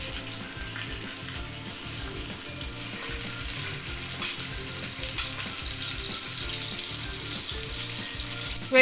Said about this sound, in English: I'm gonna sear it at really high heat and get it nice and charred on these two sides.